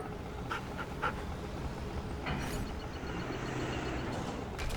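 An attack dog unit in Command & Conquer: Red Alert 3 pants in quick, breathy bursts, fairly close, over a steady bed of game ambience with a few brief sharper vocal accents.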